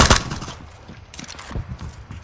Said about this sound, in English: I get a couple shots on him